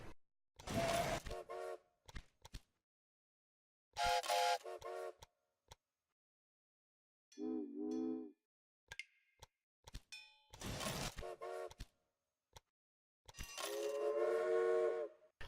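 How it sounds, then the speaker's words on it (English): Steam-era trains running in the railway management game Railway Empire, with scattered short whistle toots and horn blasts separated by silent gaps, plus a few faint clicks. "Get some trains on the move."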